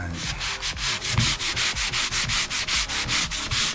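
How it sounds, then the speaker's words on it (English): A handmade belt being sanded by hand: steady, close back-and-forth abrasive strokes in a quick, even rhythm, roughly four per second, continuing throughout with no talking. "So now let's move on to sanding"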